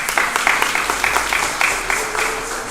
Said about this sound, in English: give her again another round of applause